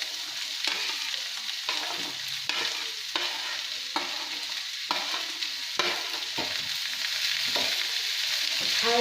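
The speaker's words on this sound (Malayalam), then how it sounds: "ഉരുളക്കിഴങ്ങ് ഒരുവിധം ഫ്രൈ ആയിട്ടുണ്ട്" Potatoes fry with shallots and green chilies in a pan, a steady sizzle broken by repeated scraping strokes of a spoon stirring at a regular rhythm, close and clear with no talk.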